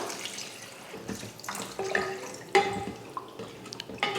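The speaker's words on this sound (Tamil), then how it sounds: "இப்போ குழம்புக்கு தேவையான தண்ணி சேர்த்துக்கலாம்." Water is poured steadily into a pot of curry, a continuous splashing flow with a few clinks of metal, close by and without talk.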